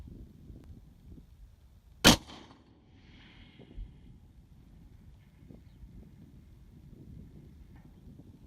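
A Savage 110 BA Stealth rifle in .300 Winchester Magnum fires a single sharp, loud shot, followed by a faint echo and a smaller thump about two seconds later over a low outdoor background.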